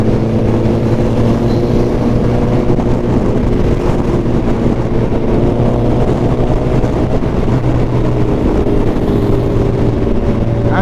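Suzuki Hayabusa motorcycle held at full throttle in sixth gear, a loud, steady engine drone with wind rush over the microphone, continuous and close without letup.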